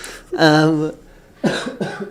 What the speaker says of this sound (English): I might be coughing a little bit during this